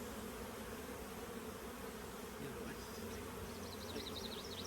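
Bees in an open hive frame of brood and pollen, raised for quick queen rearing, make a dense, steady buzz that runs close and continuous, with no talk.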